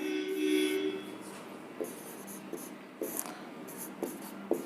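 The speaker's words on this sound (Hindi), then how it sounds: "देखिए एक बार लिख देता हूं मैं" Chalk or marker writing on a classroom board, a series of short scratchy strokes with small taps, close and moderately loud, under a faint tonal hum, with no talking.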